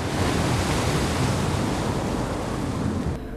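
Sea waves breaking on the beach at Durrës, eroding Porto Romano shore: a steady, loud wash of surf hiss that fills the whole stretch, with no voices over it.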